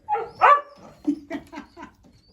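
A dog yips and whimpers close by in a short, whiny run of barks and high, moaning cries, loud at first and then trailing off into softer whines.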